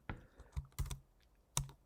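A few soft keystrokes on a computer keyboard, close and quiet, about five separate clicks with short gaps between them.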